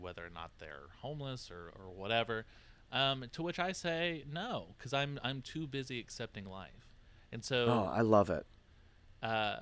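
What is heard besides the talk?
No distinct noise like a dog, phone or traffic.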